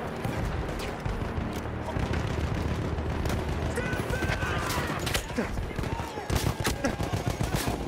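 Dense video-game gunfire rattles in rapid bursts with loud nearby shots and distant booms, while a player talks excitedly over the shooting.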